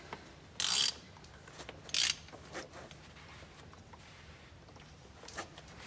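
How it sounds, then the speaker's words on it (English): A reversible ratchet wrench clicking in two short, sharp bursts during a filter and fluid change, close and crisp against a quiet background with faint handling noises. "It's a pretty cool wrench. It works both directions, either direction."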